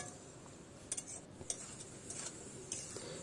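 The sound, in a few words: stirring cooked greens in a pan with a spatula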